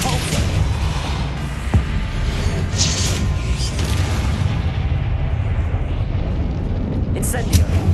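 A Depulsor spell goes off amid Hogwarts Legacy combat, with a dense, continuous roar of booming magical blasts and rumbling effects, loud and sustained throughout.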